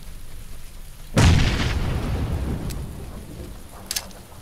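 Grenade blast in PUBG, one sharp loud boom that rumbles and decays over a few seconds, followed by a faint distant pop.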